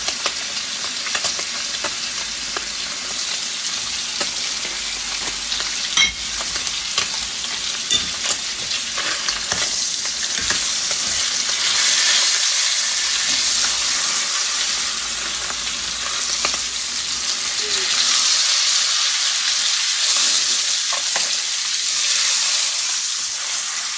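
Seasoned pork roast searing in a hot pan before going into a crock pot, loud continuous sizzling and spitting fat with occasional stirring or turning clatter, no speech.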